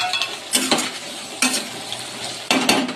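Potatoes frying in a pan for a vegetarian curry, stirred with a utensil: a steady sizzle with three distinct scraping stirs of the spoon against the pan, close and fairly loud, with no talking.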